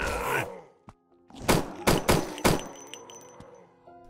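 Pistol gunfire in the hospital horror game Endless Nightmare 2: a few loud, close, booming shots in quick succession after a brief burst of noise, each followed by a fading tail.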